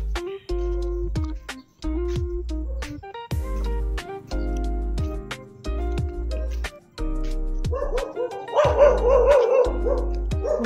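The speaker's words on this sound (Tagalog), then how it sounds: "May aso din pala dito." Several dogs on a walk in Tarlac bark in short, repeated bursts, with music-like tonal sounds playing throughout and a denser, louder stretch of yelping and barking near the end.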